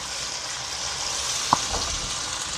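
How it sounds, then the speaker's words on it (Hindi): Ginger garlic paste fries in a pan for a curry pakora dish, giving a steady, close sizzle with a brief soft stir or clink midway and no talk. "अब अदरक लहसुन का भी पेस्ट डाल देते हैं क्योंकि इसमें कच्चापन होता है, तो इसको भी हम 3 से 4 मिनट अच्छी तरह फ्राई करते हैं।"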